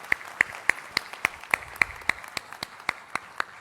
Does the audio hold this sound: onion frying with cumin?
no